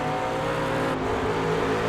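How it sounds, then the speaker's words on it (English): A McLaren race car in a sim racing game at Summit Point holds a loud, steady engine drone for a brief moment, with no voices over it. "Michael on track with us tonight in the McLaren."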